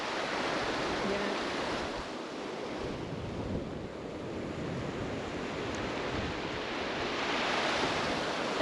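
A mountain river in Kyrgyzstan rushes along in a steady, broadband roar with no break, close by and fairly loud, its flow mixed with light wind buffeting the microphone.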